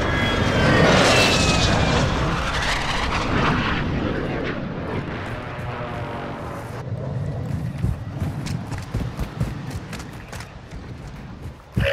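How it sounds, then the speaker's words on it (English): In a video game, a friendly airstrike aircraft roars overhead, loud and close. The engine noise sweeps through, then fades into a rumbling tail broken by sharp cracks and thuds. "friendly airstrike in the AO"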